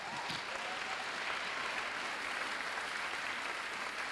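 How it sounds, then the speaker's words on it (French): A church congregation applauds at a sermon, producing a sustained, dense wash of clapping across several seconds at moderate level. No voices stand out over it. "Et en acclamant le Seigneur, acclame le Seigneur."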